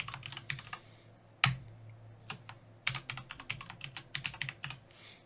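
Quick keystrokes on a computer keyboard enter a username and password, a close run of crisp clicks with a louder key strike near the start and brief pauses between bursts.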